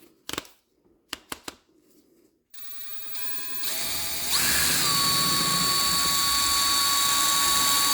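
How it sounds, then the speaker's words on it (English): A power drill with a mixing paddle stirs epoxy resin, starting with a few short clicks and bursts before spinning up to a steady high whine that holds at one pitch, close and loud. "I'm going to use a drill with the mixing thing."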